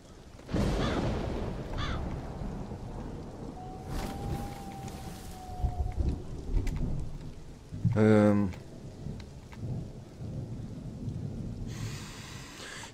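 Steady rain pours through a horror video game scene, with thunder rumbling across the storm and a brief sharp crack near the middle, all heard alone at a low level.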